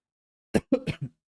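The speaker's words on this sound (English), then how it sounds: "Ooh, cough cough" A short burst of coughing from a single person, three or four quick, dry coughs close to the mic in an otherwise silent room, lasting under a second.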